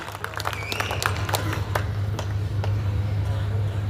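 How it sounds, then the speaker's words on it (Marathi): Scattered clapping at a political gathering for former MP Ranjit Dada Naik Nimbalkar, with sharp individual claps that thin out over a few seconds above a steady low hum from the sound system. "जोरदार टाळ्या झाल्या पाहिजे भांडणकरांनो आदरणीय दादांसाठी"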